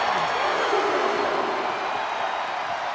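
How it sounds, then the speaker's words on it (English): A huge arena crowd roars continuously in the WWE 2K23 wrestling video game, a dense, sustained wall of cheering with faint commentary-like voices beneath. "It's deafening in here, Michael."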